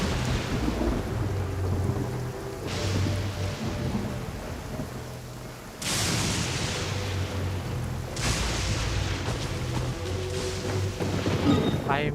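Heavy rain pours steadily in the Genshin Impact game world, a dense continuous hiss with swelling bursts and low rumbling gusts, loud and close, with background music tones underneath and no clear speech.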